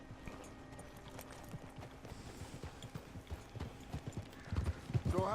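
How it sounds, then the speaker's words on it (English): Horse hooves clip-clop steadily in the Red Dead Redemption 2 video game as riders set off, an irregular run of close hoofbeats with a few louder thuds near the end. "Get on your horse."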